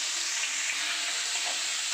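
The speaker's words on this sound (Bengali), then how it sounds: "কাঁকড়া আমি বেশি ভাজবো না।" Small turmeric-coated crabs fry in hot oil with a loud, continuous sizzle and hiss, close and steady throughout, with no speech.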